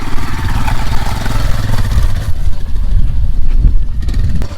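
A motorcycle in the Mon district near the India-Myanmar border chugs along loud and close, its engine a steady low rumble with rattling and slight revving throughout, no talking.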